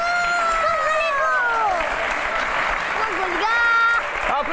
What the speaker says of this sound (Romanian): Aplauze!